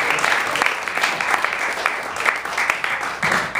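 An open mic audience in New York claps for a spoken word poet, moderately loud uneven clapping with cheers rising and falling over a few seconds.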